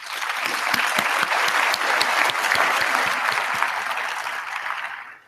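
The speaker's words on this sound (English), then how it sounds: "I think we should give them a round of applause." A large audience at a graduation ceremony claps steadily, with dense applause filling the hall from start to finish before fading away at the very end.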